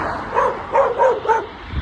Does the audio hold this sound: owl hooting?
no